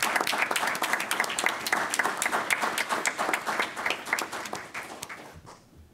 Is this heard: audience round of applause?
yes